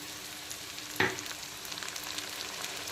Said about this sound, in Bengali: এখন আবারও বেশ কিছুক্ষণ সময় নিয়ে টমেটো আর চেরা কাঁচা লঙ্কাটাকে ভালো করে পেঁয়াজের সঙ্গে ভেজে একেবারে কষিয়ে নেব